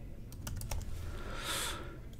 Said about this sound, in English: After clicking OK, you can see the name has changed and I can begin typing.